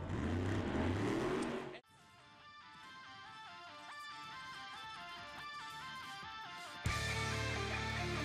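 An NMRA drag race car, Frank Varela's Renegade class Ford, screams loud at the top end near 185 mph, with a roaring pass at the start and end framing a steadier high-pitched engine whine in between.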